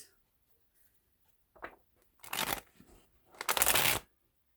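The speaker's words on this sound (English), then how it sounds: "Maybe, if I can shuffle." Playing cards being shuffled close by, a short riffle followed by two longer, louder bursts of flicking cards.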